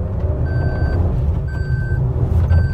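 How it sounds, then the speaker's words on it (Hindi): A Maruti car's seat belt reminder sounds three steady electronic beeps, each about half a second long and evenly spaced, over a low engine and cabin rumble. "सीट बेल्ट लगाई है सबने, ये पैं करेगी कुछ देर तक"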